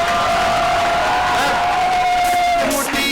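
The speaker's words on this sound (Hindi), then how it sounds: "बैरवी मैम के लिए तालियां" A school audience applauds and cheers loudly for a teacher at a school film festival event, a constant wall of clapping with shouts and a long high whoop sustained above it.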